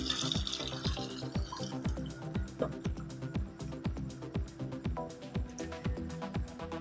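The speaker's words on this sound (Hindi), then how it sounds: "जो दाल बॉईल की थी मैंने वो सारी मैंने इसके अंदर शामिल कर दिया है, पानी भी सारे इसमें शामिल कर दिया" Boiled chana dal and its cooking water poured into a pan, a steady liquid pour and slosh with repeated rhythmic knocks and splashes close up, no talking.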